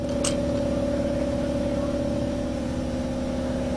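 A Briggs 9 hp lawnmower engine with a broken valve runs steadily nearby, a constant droning hum with an even mechanical tone throughout.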